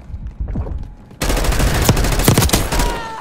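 Call of Duty gunfire, a sudden loud barrage of rapid automatic shots that starts after a short quieter stretch and continues densely to the end.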